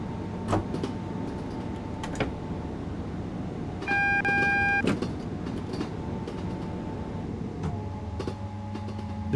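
Train braking in Train Sim World 4, a steady rumble of rail noise with a short, bright two-tone chime partway through and a softer shift in the hum toward the end.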